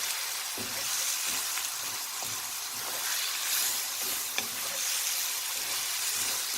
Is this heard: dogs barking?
no